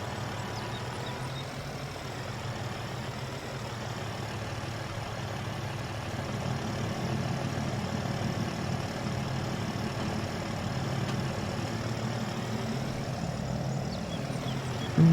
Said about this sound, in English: Lovely old tractor, this International.